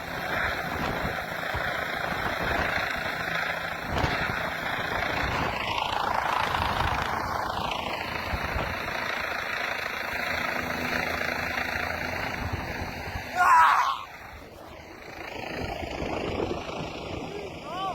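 An Astar helicopter engine runs steadily throughout, a broad continuous whine and rotor drone with sweeping tonal shifts, briefly rising in a louder burst near the end before settling again.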